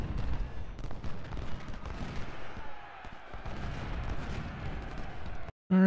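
Cannon and rifle fire crackle through a Civil War battle in the strategy game Ultimate General: Civil War, with dense overlapping reports and booms running almost continuously, then cutting off abruptly near the end.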